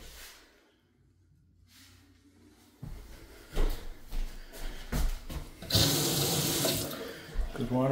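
A bathroom faucet runs with strong pressure in a house at 1685 W 10th Place, Gary, Indiana, a loud steady gush of water that begins partway through and carries on, with a few clunks around it.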